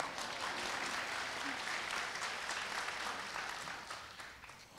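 Dense, steady applause from a congress audience in Plzeň, a full hall of clapping at even strength that begins to thin and fade toward the end.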